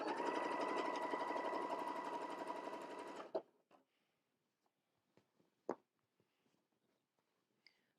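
A sewing machine stitches a t-shirt in a steady, fast, loud run for about three seconds, then stops, followed by a few faint clicks and fabric handling sounds in near silence.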